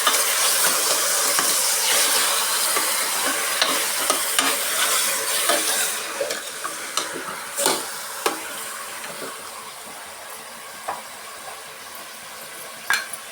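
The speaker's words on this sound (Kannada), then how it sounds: "ಈಗ ಒಂದು ಸತಿ ಚೆನ್ನಾಗಿ ಮಿಕ್ಸ್ ಮಾಡ್ಕೊಳ್ಳೋಣ." Mutton sambar sizzling and frying in a pan while it is stirred, a steady close sizzle with scattered scraping and clinking of the spoon that thins out toward the end.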